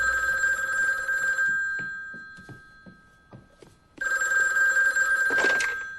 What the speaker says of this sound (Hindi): जॉर्ज, शुक्र है तुमने फोन उठाया